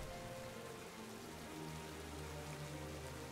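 Steady rain falling in a Pokémon DLC game world, a continuous broadband hiss of drops on surfaces with no pauses or voices, moderately quiet and even throughout.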